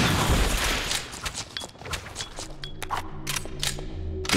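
Rapid bursts of gunfire in Resident Evil 0 as swarms of bugs are fought, loud, close sharp shots crowding the first second, then spaced single shots with game hum beneath.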